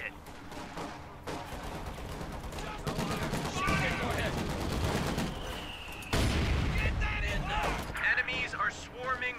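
Machine gun fire rattles in bursts through a video game battle, with dense crackling gunfire and occasional heavier booms throughout, mixed with in-game voices and battle noise.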